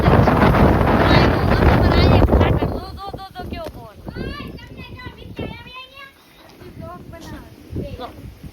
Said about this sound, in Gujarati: પવન તો જો કેવો આવે હે